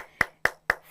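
Four sharp, evenly spaced hand claps from a theatre class, fairly close and crisp, each a single clean clap with quiet gaps between, no voices.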